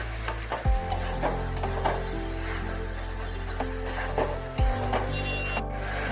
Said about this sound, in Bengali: মিষ্টিটাও দিয়ে ভালোভাবে একটু নাড়াতে হবে